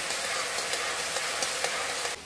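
Onions frying in a pan for sabudana khichdi, a steady close sizzle with faint scattered crackles and no voices, holding at an even level throughout.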